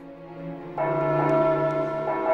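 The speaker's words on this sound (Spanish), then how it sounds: "Marchaban los soldados y se les despedía a repique de campanas." Church bells peal in a sustained, ringing wash of overlapping tones that swells louder partway through, with no voices over them.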